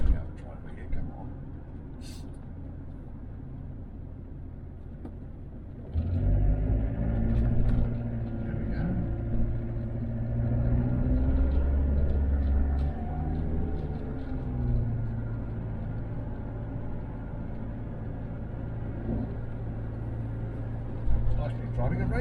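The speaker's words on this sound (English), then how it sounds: "Driving a Range Rover again." A Range Rover Classic P38 with air suspension (EAS) driving: a low engine rumble and road noise that grows louder after a quiet start, steady cabin drone with someone talking over it.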